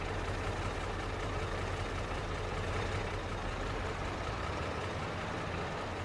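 A Case tractor engine runs in Farming Simulator as a steady, dense, low rumble that carries on without a break at moderate level, with no talk over it.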